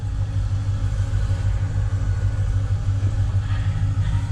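LS1 V8-swapped Nissan GU Patrol pulling away at low speed, a steady mid-pitched engine drone and rumble held close and continuous with no talk.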